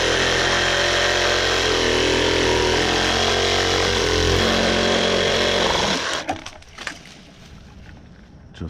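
A Black & Decker power saw cutting through a tree branch, a loud, steady motor whine for about six seconds that then cuts off, leaving faint rustling and clatter.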